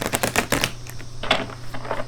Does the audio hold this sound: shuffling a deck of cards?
yes